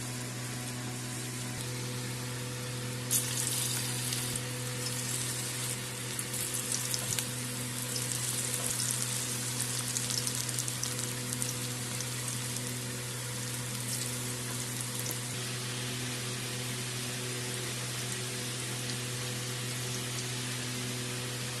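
Pakora fritters fry in hot oil, a soft, even, rain-like hiss that rises and holds for several seconds over a constant low electrical hum, then eases back.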